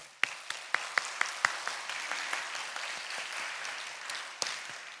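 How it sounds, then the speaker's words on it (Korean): Church congregation applauding in praise to God: a few sharp, separate claps open, then the room fills in with steady, moderately loud applause that carries on to the end. "우리 하나님을 향하여 뜨겁게 영광 감사 박수."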